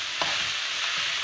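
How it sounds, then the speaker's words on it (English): Lemon rice (chitranna) being stirred in a pan, with a steady, fairly loud broadband hiss of scraping and light sizzle running continuously, plus a brief sharper scrape near the start. "So mix it well."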